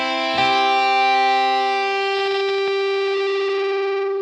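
The Ancient Void Halloween virtual instrument sounds one sustained, buzzing, distorted note with an amp-like effect. It swells in after a short attack and then holds loud and steady, slowly thinning out, with no speech.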